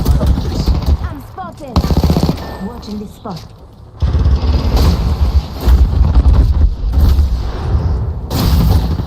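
Rapid gunfire bursts from a shooter video game, loud and dense, with blasts and machine-gun rattle running almost continuously, briefly dipping around the middle before surging again, while a player talks over the action.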